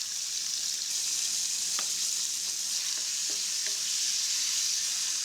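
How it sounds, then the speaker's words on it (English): Minced pork frying in hot oil in a wok over medium heat, a steady loud sizzle with a few scattered scraping stirs and clicks, no talking. "Add minced pork, stir fry for a while."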